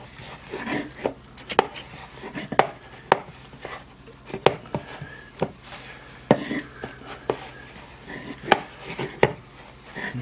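Apple fritter dough worked by hand on a counter, with soft rubbing and scattered sharp slaps and thumps as it is turned over, close and irregular, under light speech.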